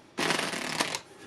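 Playing cards shuffled by hand during card sleight demonstrations, a dense riffling burst lasting about a second, close and clear with no talk.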